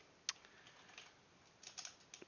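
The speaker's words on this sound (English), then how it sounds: "I'm so good at typing." Faint, scattered keystrokes on a computer keyboard tap at irregular intervals against a quiet background, with a few clustered clicks toward the end. No one speaks.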